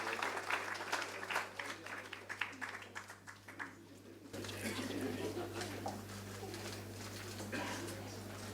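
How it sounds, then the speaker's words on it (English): Audience applause at the launch of a book of memories about actor Balraj Sahni, a steady, dense wash of clapping from a large crowd filling the second half, after a stretch of voices and crowd murmur. "a big round of applause for all the people to unveil the book"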